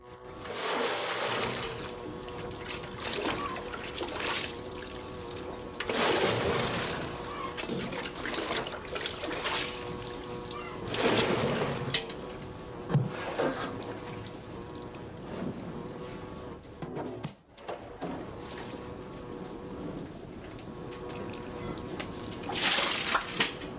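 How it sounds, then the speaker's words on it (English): Pure fruit juice trickling from a press outlet into an 80-litre juice kettle, a continuous close liquid trickle with splashing swells and mechanical hum, no voices. "In the juice kettle standing under the outlet, which holds 80 litres, the pure fruit juice collects."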